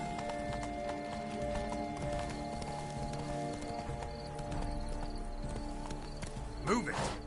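A horse in The Witcher 3 video game clip-clops at a steady gallop under game ambience, moderately loud and continuous, with a brief whinny-like sound near the end.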